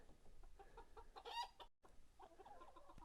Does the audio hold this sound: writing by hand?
no